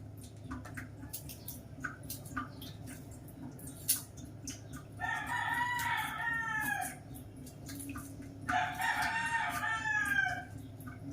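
A rooster crows twice, loud and close, each call a long wavering cry, with faint chirps and clicks in the quiet background between them.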